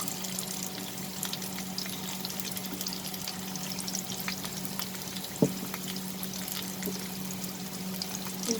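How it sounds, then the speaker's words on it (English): Onions sauté in a pan for a long bean and chicken dish, a steady close sizzle and crackle with a low hum, broken by one brief clunk midway. "saute the onions till it becomes slightly translucent or it changes its color"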